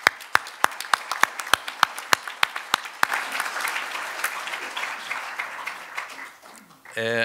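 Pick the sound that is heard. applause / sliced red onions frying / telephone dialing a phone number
applause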